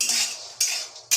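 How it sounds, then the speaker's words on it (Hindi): Almonds roast in a pan for a fenugreek-greens dish as a metal spoon stirs them, giving three sharp scraping clatters against the pan with quieter rattling between, close and clear with no talk. "हाँ, बादाम थोड़ा भून जाए"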